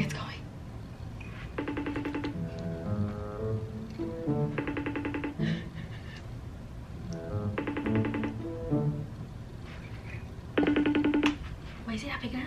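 An outgoing phone call ringing, with repeated electronic ringback tones in evenly spaced bursts over a steady background hum, while a person talks intermittently between the rings.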